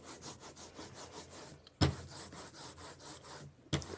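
Ink is rolled out onto a sheet of plexiglass for block printing, giving a close, faint, rhythmic staticky rasping with two sharper knocks.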